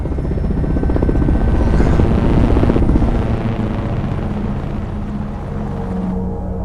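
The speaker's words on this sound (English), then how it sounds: "She identifies the noise as the rotor blades of a helicopter." Loud, close helicopter rotor thumping overhead, a rapid steady pulse with a deep engine drone underneath, continuous throughout.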